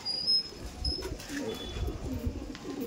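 Pet pigeons in a netted rooftop loft give soft, low cooing in irregular bursts, fairly close and moderately loud, with a few thin chirps above and no talking.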